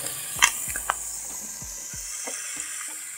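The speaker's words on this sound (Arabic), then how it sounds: "هقلب كده" Creamy seafood pasta with basil is stirred in a hot pan, soft sizzling under scattered scraping and clinking strokes of the utensil, close and moderately quiet.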